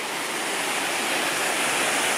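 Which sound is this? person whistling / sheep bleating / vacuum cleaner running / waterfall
waterfall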